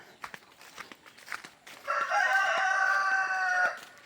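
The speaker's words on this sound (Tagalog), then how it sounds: "Dito yung mga mga free range na manok." Free-range farm chickens cluck and call softly in short bursts, then a rooster nearby lets out one long, loud crow that fills the second half before fading.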